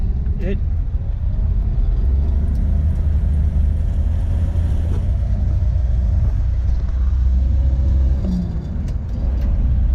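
A 1966 Chevy Nova engine with a re-jetted Rochester BV carburetor runs close by, its deep, loud rumble holding steady with a slight rise in pitch near the end.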